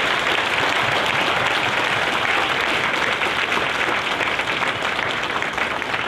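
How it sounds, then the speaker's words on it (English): An audience at a Marine recruit graduation in San Diego applauds the drill instructors with steady, full, crowd-wide clapping that holds at an even level throughout. "Ladies and gentlemen, a round of applause for the Marines who make Marines"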